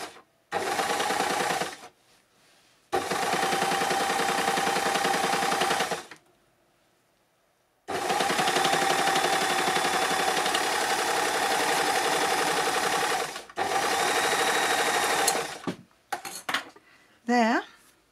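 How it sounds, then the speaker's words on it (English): A 4-thread overlock sewing machine stitching in loud, steady mechanical bursts of about two to five seconds each, separated by short pauses, with small handling clicks at the end and no voices. "There is my 4 thread overlock."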